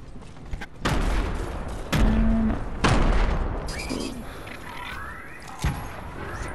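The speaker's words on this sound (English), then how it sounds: "Freaking pistols." Pistol shots in Fortnite: several sharp, loud single cracks spaced about a second apart, with mechanical clicks and brief tails in between, heard with no talking.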